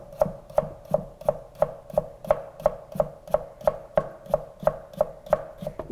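A knife julienning radish into thin matchsticks for kimchi strikes the cutting board in a steady, quick rhythm, roughly two crisp chops per second, close and clear with no talking.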